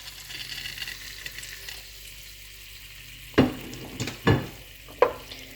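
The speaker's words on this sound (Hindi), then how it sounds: "अब मैं इसमें कटे हुए टमाटर डाल दूंगी" Chopped tomatoes dropped into a hot pan for potato karahi, setting off a steady sizzle and fry with several sharp, loud scraping stirs near the end.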